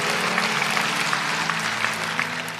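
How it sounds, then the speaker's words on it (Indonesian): A church congregation gives dense, continuous applause for God, a steady roar of many hands clapping at even volume with a low hum beneath it. "Kasih tepuk tangan tuh Tuhan."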